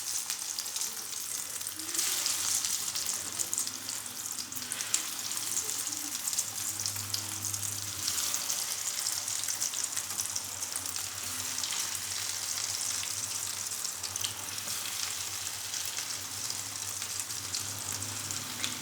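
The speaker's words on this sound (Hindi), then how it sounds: "पैन में मैंने घी डाल दिया था, घी गर्म हो चुका है। तो अब इसके अंदर हम कबाब डालते हैं।" Vegetable kebabs fry in hot ghee in a pan, giving a continuous fine sizzling and crackling hiss that is close and steady and swells slightly at moments, with no voices over it.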